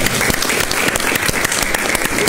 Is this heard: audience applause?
yes